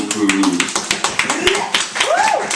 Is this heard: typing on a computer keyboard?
no